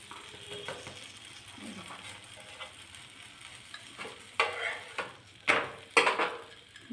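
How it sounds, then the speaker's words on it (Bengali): Ghee brushed over a hot maida kulcha on the pan, a soft sizzle with brushing and stirring scrapes that grow louder in short bursts toward the end, close and alone without talk. "এবার আমি ঘি ব্রাশ করে নেবো"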